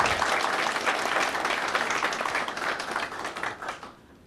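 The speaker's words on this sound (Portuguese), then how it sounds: "Eu gostaria de dar uma salva de palmas." An audience applauds a speaker at a talk on preventive real estate law, a dense, steady wash of many hands clapping for about four seconds before it quickly dies away.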